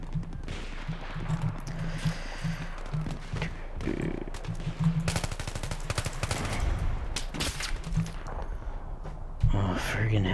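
Gunfire in Battlefield 3: dense bursts of rapid shots and scattered single cracks run through a busy battle mix, loud and close, with a person talking over parts of it.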